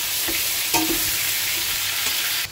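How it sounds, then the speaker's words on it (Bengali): A spice paste with chili, tomato, cumin, coriander, ginger and turmeric sizzles steadily in a hot pan, with loud continuous frying hiss and a few scraping stirs of a spatula. "এবার একটু কষিয়ে নেব মশলাটা"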